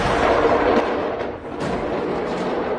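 A fireworks factory explosion in Malta, played back as recorded footage: a loud, sustained rumbling roar with crackling bursts that rolls on without a break.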